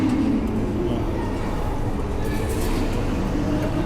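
A Baku metro train rumbling in a steady, loud, continuous roar from an underground station or carriage, with no talking.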